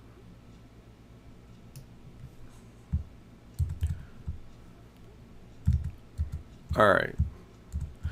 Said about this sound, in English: Now we'll take our magic wand, and I'm just clicking in the white area.